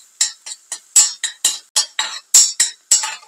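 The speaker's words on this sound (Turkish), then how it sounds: "Kavurmaya devam ediyorum." Tomato paste fried with red chili powder and black pepper in a pan, stirred with a metal spoon: about a dozen sharp, evenly spaced scraping clinks close by, with no talk.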